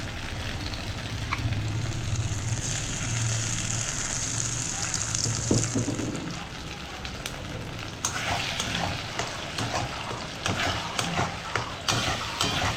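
A ground spice paste for aloo dum sizzles steadily in a hot pan, with spatula scrapes and clinks from stirring growing more frequent toward the end; no one speaks.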